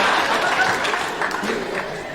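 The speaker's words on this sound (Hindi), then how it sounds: "तालियां मारो तुम लोग" Audience applause at a stand-up comedy show, a burst of clapping from a crowd that fades slightly over two seconds with a little chuckling.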